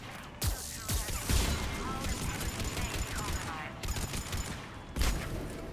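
Automated turrets in the video game Mass Effect 3 fire a rapid fusillade of gunshots in repeated bursts, loud and close, with sharp cracks and a dense mechanical rattle between them.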